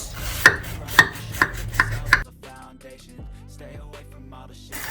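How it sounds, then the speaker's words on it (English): A knife cuts through an air fryer marble cake, with five sharp, evenly spaced knocks against the board, then quieter faint handling sounds. "let's cut it and just have a look"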